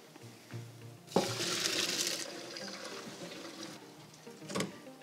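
Pasta cooking water poured out in a home kitchen: a short clatter, then a loud, steady splashing rush for about a second, which trails off into a quieter simmer with another brief clank near the end.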